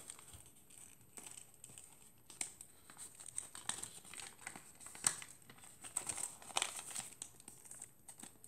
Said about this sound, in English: Now flip it over, fold on the crease. Now, open the tail up, push it in,